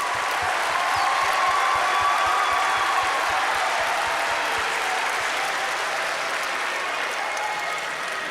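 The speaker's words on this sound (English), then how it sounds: "One last applause" A crowd at a high school national signing day ceremony gives sustained applause, dense and even clapping that fills the room from start to finish.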